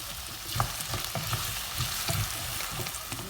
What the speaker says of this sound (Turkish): havucumuzu güzelce soteliyoruz.